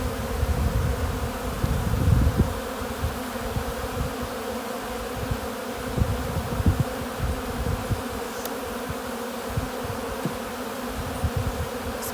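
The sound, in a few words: honey bees buzzing while being shaken off hive frames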